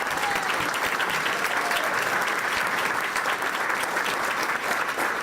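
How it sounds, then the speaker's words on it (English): Steady, dense applause from a seated crowd fills the room at a Town of Trumbull business appreciation breakfast in 2018, an unbroken wash of clapping honoring a local leader, with no voices standing out. "Can we give her another round of applause?"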